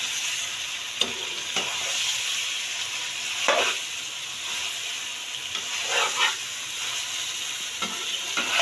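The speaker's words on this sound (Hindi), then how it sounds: "इसे अच्छी तरह से मिक्स करेंगे ताकि मसाला इसमें जज़्ब हो सके।" Capsicum, potato and carrot being stirred with spices in a hot pan make a steady sizzle, with several scraping strokes of a spoon standing out at intervals.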